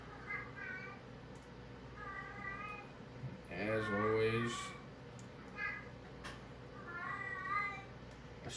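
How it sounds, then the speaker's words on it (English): A cat meows several times in short repeated calls, fairly near and clear, with a louder, drawn-out yowl in the middle; a person speaks briefly over it. "a stupid cat meowing,"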